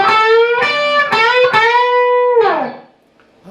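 Distorted electric guitar plays the closing phrase of a song's solo: a run of sustained, bent and vibrato notes, then a final note sliding down and fading to near silence.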